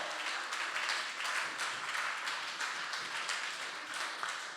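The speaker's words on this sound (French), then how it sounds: "Vas-y, acclame très fort." A church congregation at a teen and pre-teen camp applauds and cheers steadily, a dense, even wash of many hands clapping at moderate loudness for several seconds.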